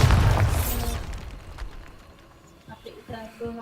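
A booming Bombarda blasting-spell explosion in the video game Hogwarts Legacy opens loud and low, then rumbles and fades with scattered debris, followed by faint talking.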